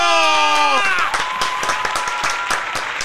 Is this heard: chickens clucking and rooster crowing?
no